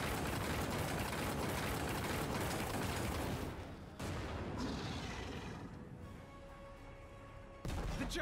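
A cannon unleashes its critical explosion attack during a demon siege of a fortress in Lost Ark, producing a dense, loud roar of gunfire-like blasts with heavier booms near the middle and end.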